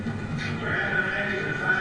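A barrel-racing horse in the arena tunnel at a professional rodeo whinnies amid a steady crowd and arena din, with an announcer talking throughout; the neigh sits low in the mix rather than standing out.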